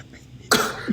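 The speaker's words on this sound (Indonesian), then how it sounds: "Batuk-batuk." One sharp, close cough bursts out after a quiet moment during a casual indoor chat, followed by a short rough throat sound.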